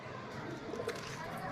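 A male pigeon gives soft, low cooing in a short, faint burst close by, with light background noise and a hint of a voice.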